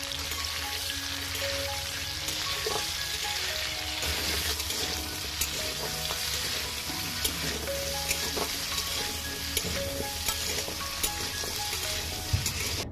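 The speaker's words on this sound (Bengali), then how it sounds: "বন্ধুরা আমাদের আলু আর কপি ভাজা কিন্তু একদম কমপ্লিট।" Potato and cauliflower pieces fry in hot oil with a dense, continuous sizzle close up, and occasional light clicks of stirring run through it for the whole stretch. No one speaks.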